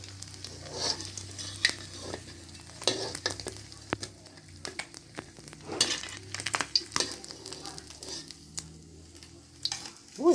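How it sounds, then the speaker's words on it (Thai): Mackerel fries in hot oil with an uneven, bubbling sizzle punctuated by repeated spatters and clattering taps of a utensil against the pan, close and moderately loud throughout. "ปลาทูนี่จะไม่ทอดนานนะครับ เพราะเราเอาไปตำน้ำพริกปลานะครับ เรา ทอดพอสุกพอครับผม"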